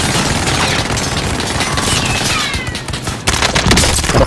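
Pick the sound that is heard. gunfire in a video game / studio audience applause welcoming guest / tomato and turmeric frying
gunfire in a video game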